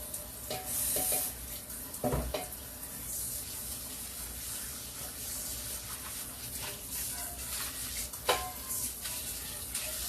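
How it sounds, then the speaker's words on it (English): A mixing bowl washed by hand in a home kitchen sink, with a steady hiss of running water and scattered clinks and scrubbing sounds, fairly faint and continuous. "I am now going to wash this bowl real quick because I'm going to use it again"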